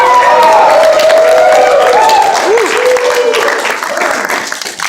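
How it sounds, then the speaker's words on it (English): Stand-up comedy show audience applauding a comedian as he takes the stage: loud, sustained clapping and some cheers from a sizable crowd, with a host's voice calling out over it before the applause thins toward the end. "Give him a round of applause"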